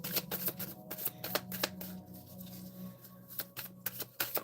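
Gaia oracle cards shuffled by hand in a quiet room, a steady run of soft papery riffles and flicks close by with a faint low hum underneath.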